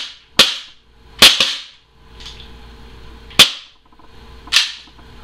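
A KJWorks SIG P226 gas blowback airsoft pistol fired in single shots: five sharp, loud snapping reports spaced unevenly over a few seconds, each with a brief metallic slide clack.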